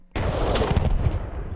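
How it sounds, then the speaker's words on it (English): Explosion from a video of the finished AK-50 rifle being fired, a sudden loud blast with a long, harsh, rumbling decay, heard close with no voices. "Everything got wiped. Explosion. Explosion."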